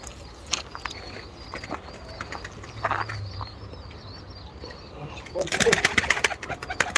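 Young pigeons, an Arab youngster and a smoky-coloured youngster, coo softly in a loft at a live bird auction, with scattered wing and foot movement, a louder burst near the end, and some talking in the background.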